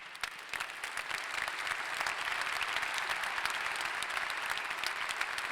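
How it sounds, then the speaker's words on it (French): An audience at a French civic gathering applauds, with sharp individual claps near the start quickly swelling into sustained, even clapping from a large crowd that holds steady to the end. "Et je crois que vous pouvez tous les applaudir."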